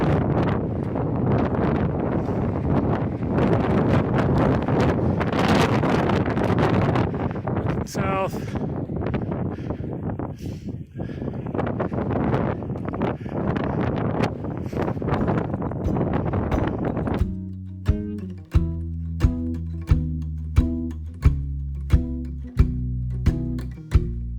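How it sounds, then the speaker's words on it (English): Gusty wind on Water Canyon Peak, Utah, roars across the microphone for most of the stretch, then drops away as a series of regular sharp knocks and tones take over. "Yeah, it's windy."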